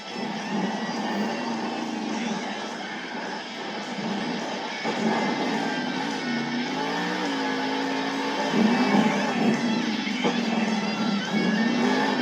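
A monster truck engine roars through two-wheel moves at a Monster Jam stadium event in Arlington, Texas, with continuous revving that swells and dips under a loud crowd ambience.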